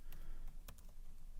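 A handful of quick, light keystrokes tapped on a computer keyboard, irregular clicks close by in an otherwise quiet room.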